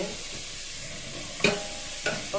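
Chopped tomato stirred into a pan of frying onions, a steady low sizzle with two sharp scraping stirs of the spoon standing out near the end.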